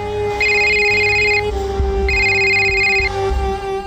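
A telephone ringtone sounding twice in loud, even electronic bursts about a second long, separated by a short gap, over a faint indoor background.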